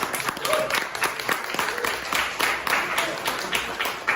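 Audience clapping at a political debate, a steady patter of hands under a noisy room with some overlapping voices, fairly close and moderately loud throughout.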